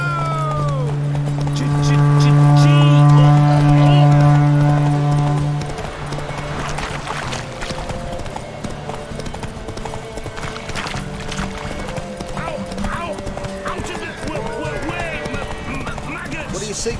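Hooves clip-clop at a steady galloping rhythm as a horse runs in The Witcher 3, with a loud tonal game sound at first, then game ambience and character voices over the hoofbeats.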